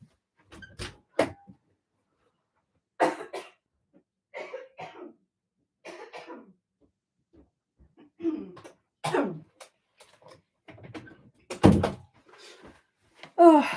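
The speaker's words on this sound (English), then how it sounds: "I'm going to have to cough again." A person coughs repeatedly in separate sharp, close bursts, several hacking coughs spread across the stretch with quiet gaps between them, plus some throat clearing and brief murmured sounds.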